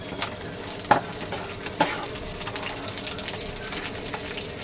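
Ingredients for drumstick leaf powder fry over low flame in a pan, a continuous soft sizzle with a few sharp clicks of a spoon stirring against the pan, close by and without talk.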